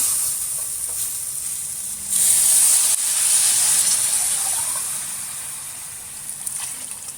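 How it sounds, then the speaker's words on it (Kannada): Water poured into a hot pan for oats upma hisses and steams, with a bright surge of sizzling partway through that slowly settles into a softer bubbling hiss, close and steady with no talking. "ಇದರಲ್ಲಿ ಒಂದು ಗ್ಲಾಸ್ ತಗೊಂಡಿರೋದ್ರಿಂದ 3 ಲೋಟ ನೀರು ಹಾಕ್ತೀನಿ."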